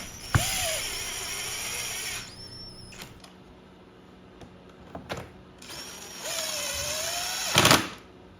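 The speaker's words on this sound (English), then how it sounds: "we'll install the 2 Torx bolts without washers in the console, again being gentle with the impact driver" An impact driver gently runs Torx bolts without washers into the console of a 2024 Ski-Doo Rev Gen 5 Backcountry snowmobile, with two close, high-pitched whirring bursts of about two seconds each separated by quiet and light clicks.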